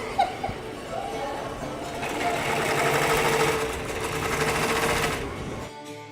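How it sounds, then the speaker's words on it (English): A sewing machine stitches theater curtains in a workshop. It whirs in a steady, rising and falling run for several seconds, then stops abruptly, with faint background voices. "Lots of sewing."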